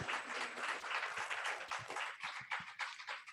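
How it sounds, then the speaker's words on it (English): A congregation at a Sunday service at Unity of London Ontario applauds its singers, a dense, steady patter of many hands clapping for a few seconds with no talk over it. "Give another round of applause to our singers"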